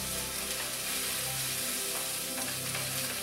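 Mushrooms and caramelizing shallots sizzle in a hot pan, a dense, continuous frying crackle heard up close with occasional stirring scrapes.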